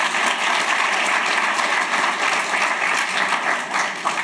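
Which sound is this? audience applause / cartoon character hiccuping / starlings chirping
audience applause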